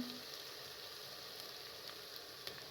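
Garlic and ginger with cumin frying in a pan for a daal mash and matar curry, a faint, steady sizzle with a few small pops throughout.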